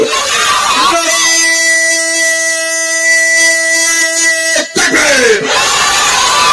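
A large outdoor crowd at an Islamic sermon gathering shouts the takbir in unison in response to a preacher, a loud, sustained massed roar of voices that swells, briefly drops, then rises again.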